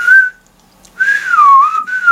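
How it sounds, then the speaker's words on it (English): A person whistles a short melodic phrase, pauses, then whistles a longer sliding tune, clear and close. "I'm whistling for it."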